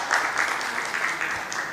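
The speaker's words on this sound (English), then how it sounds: "So it commands a clap" Summit audience at an education leadership panel clapping for a panelist, a steady wash of applause from a modest crowd, even and sustained for a couple of seconds.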